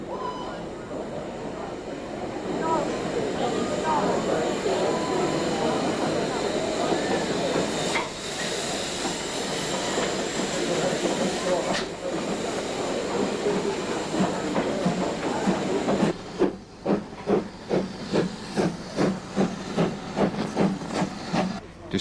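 A preserved locomotive passes near a Kent signal box and level crossing, a loud continuous rumble and hiss giving way to a rhythmic clickety-clack of wheels over rail joints as the carriages roll by.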